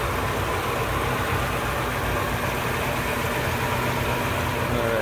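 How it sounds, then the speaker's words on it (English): A 1962 Cadillac Series 62 convertible V8 idles smoothly in a low, even rumble that stays steady and fairly close for the whole stretch, with no voices over it. "Just purring like a caddy should."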